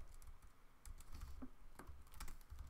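Computer keyboard typed on while coding an iOS app, a quiet run of irregular key clicks with short pauses, heard alone without talk.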